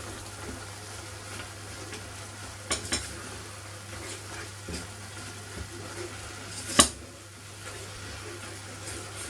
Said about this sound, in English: It's given them a good mix up.